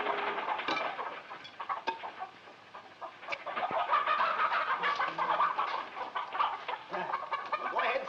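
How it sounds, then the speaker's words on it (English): Chickens clucking on a farm, with several birds making repeated, irregular clucks and short calls at close range, with scattered sharp clicks in between. "Well, feed the chickens."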